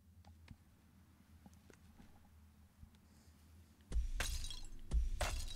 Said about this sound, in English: Smashing your vases.